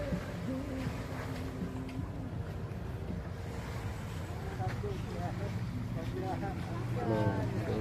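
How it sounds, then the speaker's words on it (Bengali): Singapore coast guard boat passing on open water near Coney Island, a low steady engine rumble under strong wind noise and wave wash, with people talking throughout. "যে বোটটা যাচ্ছে এটা সিঙ্গাপুরে।"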